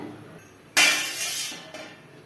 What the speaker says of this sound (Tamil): இதை மாதிரி ஒரு கரண்டி வச்சு கலந்து விட்டுக்கலாம் பாலை